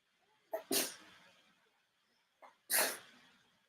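A dog sneezes twice, close and fairly loud, each one a sharp snort preceded by a short intake, with a quiet pause between them.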